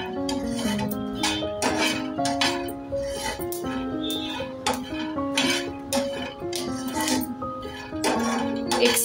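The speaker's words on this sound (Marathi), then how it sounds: "एक 7 ते 8 मिनिटं आपल्याला हे सतत परतवून घ्यायचं आहे।" Green chillies are stir-fried continuously in a pan for Maharashtrian thecha, with a metal spatula scraping and clinking against the pan in an irregular rhythm, fairly close, while someone speaks over it.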